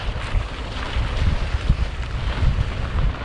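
Wind buffets the microphone on a bicycle ride heading almost due west, a gusty low rumble that swells and eases in uneven pulses, fairly close and steady, with no talking.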